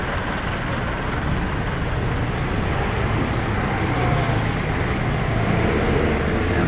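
Heavy road traffic rumbles steadily nearby in a dense, continuous wash of engine and tyre noise, with no clear breaks and no voices.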